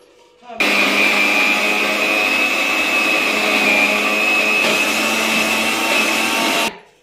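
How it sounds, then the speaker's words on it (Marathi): A mixer grinder chopping mango pieces whirs loudly at a steady pitch for about six seconds, then cuts off abruptly. "थोडे मिक्सरला आधी फिरून घ्यायचे."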